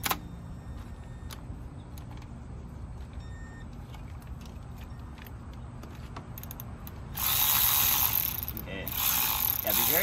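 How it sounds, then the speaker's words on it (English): A ratchet works on bolts on a Honda Accord intake manifold, giving steady fast clicking over a low mechanical background, then a louder hissing, rattling burst in the final seconds. "we're gonna crisscross every time we take a bolt out"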